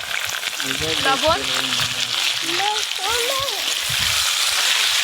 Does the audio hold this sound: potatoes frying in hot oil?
yes